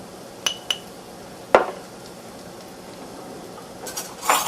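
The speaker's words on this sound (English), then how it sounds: "We mix that thoroughly." Flour is stirred into a pan for a sirloin tip roast, with a few metallic clinks and one louder clank of utensil on pan, then faint scraping.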